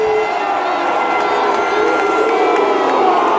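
Wrestling crowd at WWE Survivor Series 2016 roaring and cheering continuously, a dense, loud wall of voices with scattered shouts and no break.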